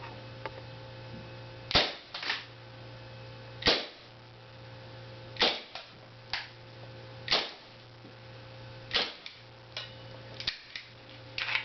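An airsoft gas gun fires 0.25 BBs in a loose series of sharp, snappy cracks, roughly a dozen shots spaced a second or two apart over a steady background hum, each one loud and close.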